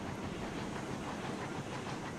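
Train in the game RailRoads Online running into a tunnel, a continuous rumbling wash of rolling wheels and hiss, steady and fairly quiet throughout.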